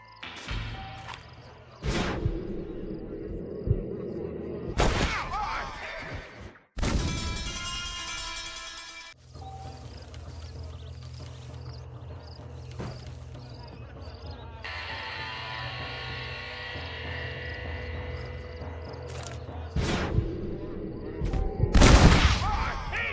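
Gunfire in a Red Dead Redemption shootout: bursts of shots, hard impacts and whooshes rattle through a tense Western scene, with characters shouting between volleys and a loud flurry near the end.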